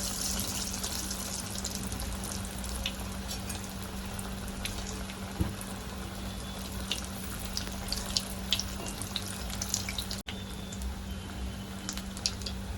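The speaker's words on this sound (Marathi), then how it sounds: "आता आपण एक एक करून बॉल्स तळून घेऊया" Steady, continuous crackle and hiss of cheese corn balls deep frying in hot oil over medium-high flame, with scattered small pops, moderately loud and close, no voices.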